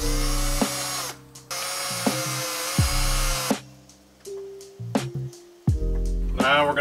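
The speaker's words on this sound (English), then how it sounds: "Yeah, let's drill some holes." A power drill boring holes into a wooden broomstick being made into a fishing lure, several loud whining bursts that start and stop in short runs, close up with brief pauses between.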